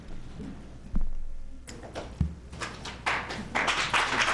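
Applause at a city council meeting, starting with a few scattered claps and building into louder, fuller clapping from the audience toward the end.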